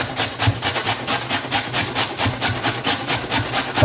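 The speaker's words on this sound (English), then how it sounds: "we're going to grate these onions and potatoes in there" Onions and potatoes are grated by hand for savoury pan-fried pancakes, making close, rhythmic scraping strokes about four per second that repeat steadily with no talking.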